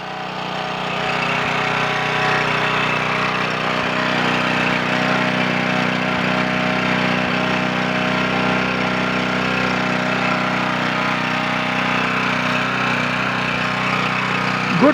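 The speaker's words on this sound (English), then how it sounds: "Good little generator, but I'll tell you what, that thing is loud compared to the Champion" A portable gasoline generator runs steadily right after a single pull start, a loud, close, continuous engine drone with a constant buzzing hum and no talk.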